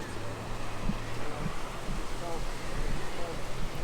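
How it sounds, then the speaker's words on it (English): Calm ocean waves wash in at Myrtle Beach near the pier, a soft continuous surf with wind noise on the microphone and faint voices in the background. "Look at these beautiful waves. They're so calm today."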